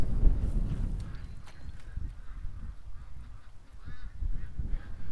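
Canada geese honk repeatedly in the open air near a swamp, scattered calls at moderate distance over a low outdoor rumble.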